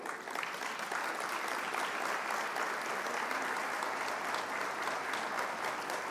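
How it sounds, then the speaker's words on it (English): Sustained audience applause at a summit broadcast, dense and steady throughout, a large crowd clapping with no talk over it. "20 seconds of applause should get him from his seat here to the podium."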